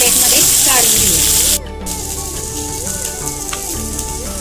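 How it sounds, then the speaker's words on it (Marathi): Bangda mackerel shallow-frying in oil on a tawa over a low flame gives a loud, dense sizzle that drops to a steadier, softer crackle after the first second and a half. "एकदम मंद गॅसवर तेल आपण छान आता फ्राय करून घेणार"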